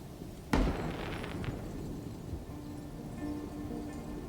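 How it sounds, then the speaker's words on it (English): A firework in the video game Cairn goes off with one sharp bang followed by a crackling, fizzing tail that fades over a second, then a soft hiss continues. "Light up the sky, shoot fireworks."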